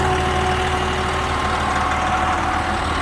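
Cold truck engine idling steadily, a close, even low drone with no change in speed throughout.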